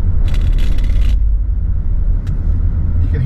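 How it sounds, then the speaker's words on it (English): A car rolls over speed bumps on a Bangkok street: a low road rumble under two short scraping thumps, one longer at the start and a brief one later. "You can hear the speed bumps there."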